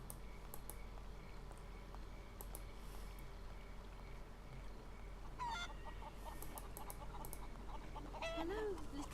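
Hens cluck in a farmyard of the video game Haunted, short scattered calls over a steady ambient bed, with a person talking intermittently across it.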